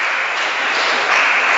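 Steady applause from the bench at a junior table tennis match in Arkhangelsk, a dense continuous patter of clapping that swells slightly near the end, with no talk over it.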